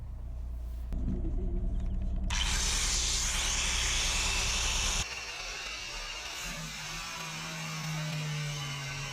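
An angle grinder cuts into the steel roof of a narrowboat, a loud harsh high-pitched grinding whine over a low rumble lasting a few seconds before cutting off, leaving quieter outdoor background noise.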